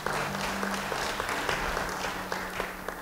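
A church congregation applauds during an Indonesian sermon, sustained dense clapping over a steady low hum, with a few sharper claps standing out through the three seconds.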